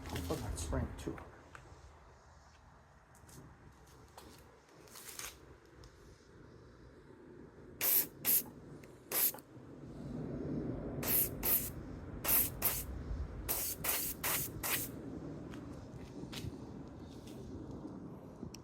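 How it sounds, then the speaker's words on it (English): Short hissing bursts of a spray can or paint sprayer applying bronze-looking paint to a 1:72 scale Super Scooper model kit repeat in quick clusters, separated by quieter stretches with faint background sound. "I'm not spraying too hard."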